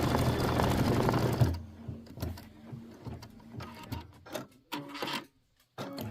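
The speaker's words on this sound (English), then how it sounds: "Let it do its stitching. It stitches like a little starburst." Embroidery machine stitching a starburst quilting design, a brief loud burst of rapid mechanical stitching at the start, then scattered softer clicks, thumps and short whirs.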